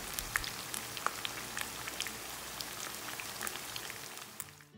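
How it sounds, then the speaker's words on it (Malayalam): Fish fries in a pan over a medium flame, a steady close crackle and fine popping hiss with scattered spits and snaps, continuous and unvoiced. "നമുക്ക് മീഡിയം ഫ്ലെയിമിൽ വെച്ചിട്ട് തന്നെ ഈ മീനൊന്ന് പൊരിച്ചെടുക്കാം"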